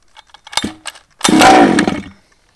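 Baja small engine pulled over by its pull start: a few quick mechanical rattles, then the motor catches and buzzes loudly for under a second before dying away, close and alone.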